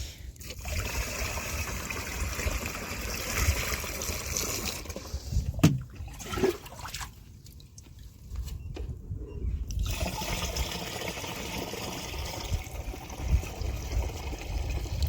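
Water trickles and splashes as it is poured into a sprayer pump for mixing plant spray, a continuous liquid sound that briefly quiets midway before resuming.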